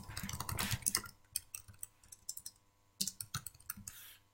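Computer keyboard typing on a stylesheet: a rapid flurry of close key clicks, then scattered single taps and another short burst, with a low steady hum underneath.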